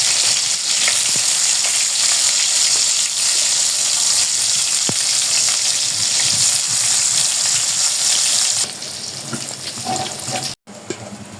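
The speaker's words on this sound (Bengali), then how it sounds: "তেলটা গরম হয়ে গেছে, এখন এই যে বেগুনগুলো আমি ভেজে নিব" Eggplant pieces sizzle and crackle steadily in hot oil in a home kitchen, a loud continuous fry that drops lower near the end, with faint stirring and a brief pause.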